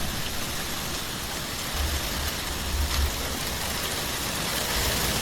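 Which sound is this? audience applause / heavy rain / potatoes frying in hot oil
heavy rain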